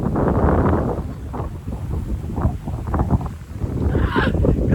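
Gusty wind blows outdoors on a farm, buffeting the microphone in loud rushing surges that ease briefly and then build again.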